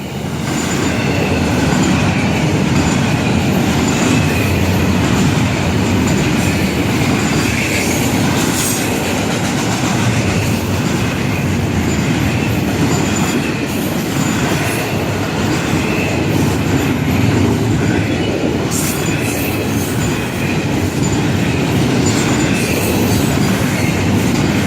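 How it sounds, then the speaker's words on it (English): An FEC freight train approaching and rolling past, a loud, continuous rumble with steady wheel clatter and occasional squeals of the wheels on the rails, sustained at close range the whole time. "Train sneaking up in front of us"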